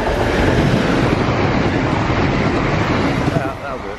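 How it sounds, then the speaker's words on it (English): A train rushes past close to a railway track crossing, a loud broadband roar with wind buffeting that holds steady and then eases slightly at the end. "There's a train coming."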